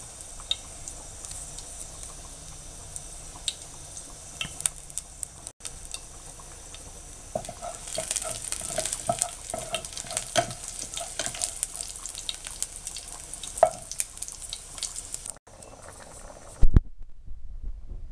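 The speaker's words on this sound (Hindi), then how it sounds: "पैन में तकरीबन 3 टीस्पून के बराबर ऑलिव ऑयल लें और उसमें ऑनियन को फ्राई करें।" Onion sizzles gently in olive oil, a soft steady crackle with occasional utensil clicks, close by; it quiets and ends with a couple of thumps.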